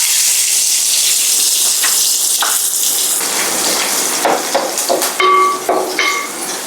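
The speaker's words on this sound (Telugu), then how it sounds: "ఇప్పుడు మనం దీంట్లోకి ఆనియన్స్ వేసి రోస్ట్గా మనం అయితే వేపుకుందాము" Chopped onions frying in hot oil in a pan give a loud, dense sizzle, with scattered metallic taps and clinks from stirring toward the end.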